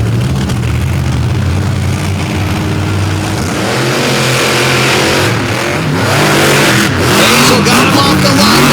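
Drag race cars launch off the line at a 2023 Throwdown on the U.P. event, a loud, sustained engine roar that stays dense and steady with rising pitch sweeps, under commentary.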